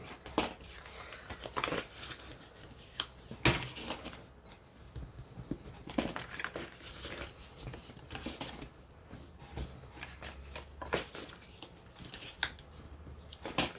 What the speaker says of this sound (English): I'm just going to score them along the score marks